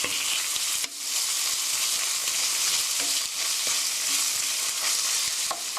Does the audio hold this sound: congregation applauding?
no